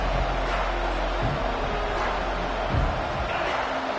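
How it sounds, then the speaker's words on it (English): Dense, steady roar of a football stadium crowd during a game, continuous and distant-sounding with no distinct voices standing out. "This crowd trying to make life miserable for this offense."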